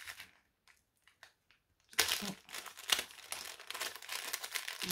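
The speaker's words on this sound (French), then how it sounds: "Je vais le déballer." Plastic packaging of small clip fasteners crinkling and crumpling as it is unwrapped by hand, a few faint ticks before a sustained, close rustle takes over.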